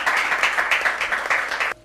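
Loud, dense audience applause fills a university student event, with many hands clapping in a steady, rolling wash before it cuts off abruptly near the end.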